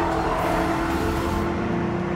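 A supercharged Ford GT's engine pulls hard at high speed, over 90 mph in second gear, a loud sustained roar with a steady whine layered on top, continuous and close throughout.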